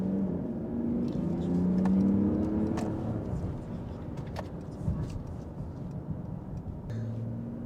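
A 2024 Mercedes-Benz GLE 450d Coupé diesel SUV cruising fast on the Autobahn, with a steady low engine and road drone that swells briefly early on, then settles into an even rumble, and a voice speaking faintly over it.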